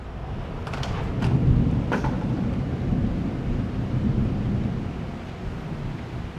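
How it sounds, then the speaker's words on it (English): Low, rumbling thunder rolls on in the distance outdoors, a deep sustained murmur with a few faint crackles, heard without voices. "I don't know if you can hear that thunder."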